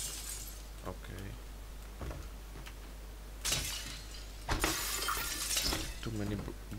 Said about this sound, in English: Too many glasses broke.